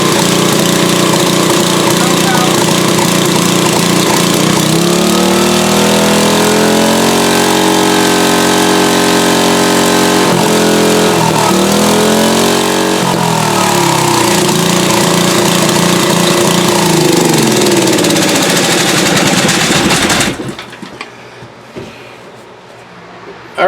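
A Briggs & Stratton GenPower 10 HP generator engine, once left for dead, starts and runs loud and close, a steady heavy engine roar with a shifting pitch midway before cutting off abruptly near the end.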